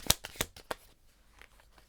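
Tarot cards shuffled by hand, a few quick crisp riffles close up at the start, then fading to near silence.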